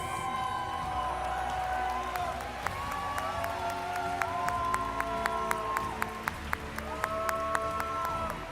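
An audience at the Pokémon World Championships finals in Yokohama applauds a finalist, a steady wash of distant crowd clapping and cheering with sharp camera-like clicks growing more frequent toward the end.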